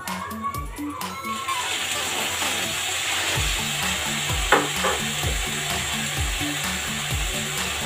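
Veg momo filling stir-fried in a pan with about a spoonful of soy sauce added, a steady loud sizzle and frying hiss running throughout, with stirring scrapes and a few low thumps in the background.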